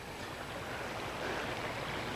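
Tohickon Creek, a stream flowing from Nockamixon Lake down to the Delaware River, rushes steadily in a broad, even wash of flowing water, close and continuous with no voices.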